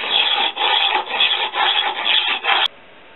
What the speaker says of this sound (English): and then this small thing and filing of course